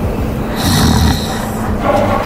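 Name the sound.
security guard snoring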